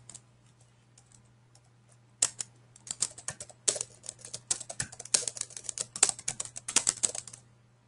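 Rapid typing on a computer keyboard, a close, quiet run of crisp key clicks that starts sparse and then becomes a steady, dense burst of keystrokes.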